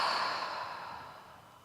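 A slow, relaxed out-breath during a gentle stretch, a soft airy sigh that starts fairly close and steadily fades over a couple of seconds.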